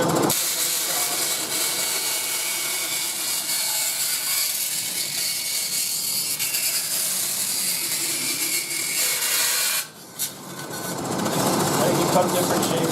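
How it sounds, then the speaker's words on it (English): A bandsaw runs with a steady, bright high-pitched whine and hiss as material is fed through by hand, holding constant before a brief dip and then resuming. "Cut different shapes out of the bandsaw"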